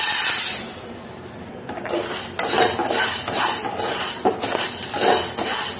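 Urad dal dry roasting in a pan over a low flame, with a utensil scraping and stirring it in steady, close, fairly loud rustling strokes and a few sharper clinks. No talking.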